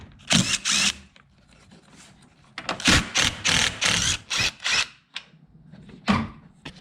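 A power tool on 10mm headlight bolts of a 2021 or later Ford Bronco gives a run of short, close whirring bursts, separated by quiet gaps.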